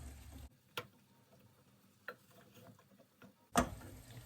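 A spoon stirs a halva mixture in a pot on low heat, giving a few soft, scattered scraping taps over a faint background sizzle, with no voices.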